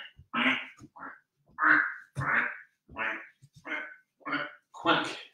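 A human voice imitates a duck, giving a rapid series of about ten short, loud quacks in an even rhythm, close up and with no other sound behind them.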